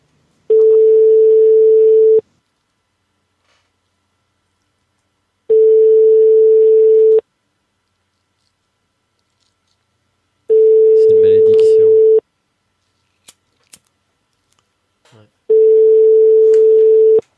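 Telephone ringback tone heard while calling a hotel: four long steady beeps of about two seconds each, evenly spaced with silent gaps, loud and clear, with a few faint clicks between them.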